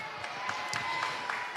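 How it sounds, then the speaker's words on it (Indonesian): Applause from children and a church congregation at a Sunday school Christmas service at HKBP Kebayoran Lama, a steady wash of scattered clapping with a few sharper claps, fairly distant and even throughout. "sekali lagi tepuk tangan"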